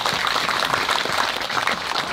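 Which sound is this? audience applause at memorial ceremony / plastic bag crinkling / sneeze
audience applause at memorial ceremony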